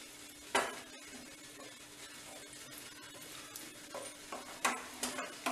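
Quiet simmering of tomato pickle in oil with a soft continuous sizzle, punctuated by a few sharp clinks and scrapes of a spoon against the pan.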